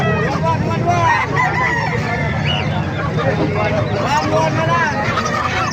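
A rooster crows amid a busy, noisy crowd at a market in Calumpit, Bulacan, with steady chatter and bustle all around.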